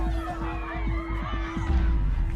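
A crowd of Black Lives Matter activists surrounding a police car makes a steady babble of shouting voices, with a constant low hum running under the noise.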